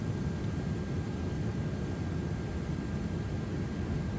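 An Airbus A330 engine starting in a high-fidelity flight simulator, a steady, broad, low rumbling roar with a faint constant high whine, even and unbroken throughout.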